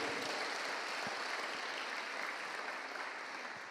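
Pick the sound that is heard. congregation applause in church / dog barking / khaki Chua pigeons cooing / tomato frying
congregation applause in church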